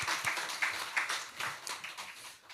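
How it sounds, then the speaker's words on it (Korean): A church congregation claps after a choir hymn at a Sunday worship service, a soft, scattered patter of many hands that continues steadily and fairly quietly for a couple of seconds. "우리 경례 박수하겠습니다."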